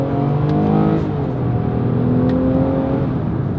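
A 2026 Nissan Pathfinder's naturally aspirated V6 revs hard in first gear and climbs steadily in pitch, a loud continuous roar that rises, dips briefly, then rises again.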